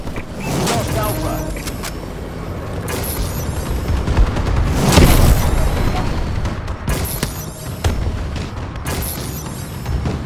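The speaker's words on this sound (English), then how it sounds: "Friendly bombing run incoming." A friendly bombing run in a shooter video game: a string of heavy booming explosions every couple of seconds over rattling, creaking battlefield noise.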